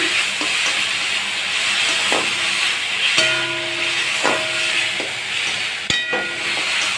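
Fish fried with spices in a pan, giving a continuous close hiss and sizzle with occasional stirring knocks and a sharp clink near the end, with no talking.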